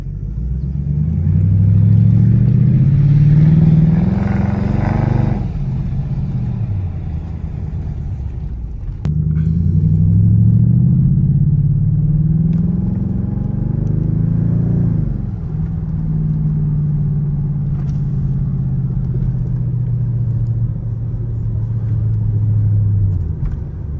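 A fully customized 2006 Mercedes CLS with paddle shifters, heard from inside while driving: a loud, deep exhaust rumble that swells with acceleration, drops at a shift, then builds and settles into a steady cruising drone.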